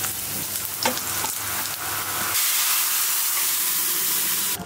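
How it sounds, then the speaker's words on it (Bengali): Onion, green chilli, dried chilli and cumin hitting hot oil to temper boiled lentils and spinach, a crackling sizzle with stirring scrapes that suddenly swells into a loud, even hiss partway through, close up. "পেঁয়াজ, কাঁচামরিচ, শুকনো মরিচ, ডালটা বাগার দেব।"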